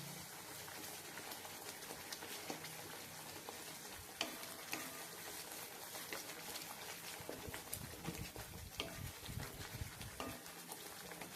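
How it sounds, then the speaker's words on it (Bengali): Turmeric being stirred into an egg curry in a frying pan sets off a soft, continuous sizzle, with faint scraping of the stirring spoon heard throughout at low volume. "এবার এটাকে ভালো করে আমি মেশাবো।"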